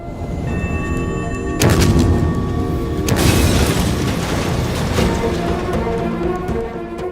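A blast explosion in a film lands as a deep, loud boom that rumbles on under a dense musical score, with a second heavy impact shortly after.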